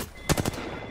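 A quick burst of three or four rapid gunshots in a video game firefight, close and sharp, cuts in briefly over quiet background game noise.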